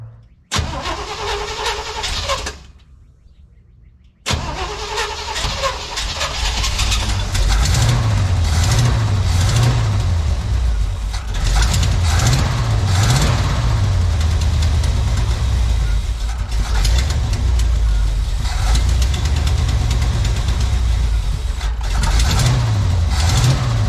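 A tired, worn engine cranks on brake cleaner, cuts out briefly, then catches and keeps running with a loud, rough, uneven idle that swells and dips, close by.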